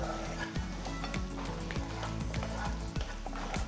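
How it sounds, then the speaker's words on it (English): Tomatoes, garlic and green chilies fry in oil over a high flame, giving a steady, dense sizzle throughout, close and loud, with a faint musical background. "You can increase the flame to a high and cook the tomatoes."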